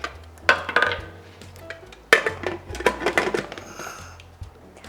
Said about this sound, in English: So once everything is stirred well, we're gonna cover the lid.